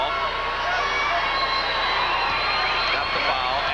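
Crowd noise fills a high school basketball gym during a free throw at the 1984 Illinois Class AA boys championship between Chicago Simeon and Evanston, a steady, dense roar of many voices with no clear individual words.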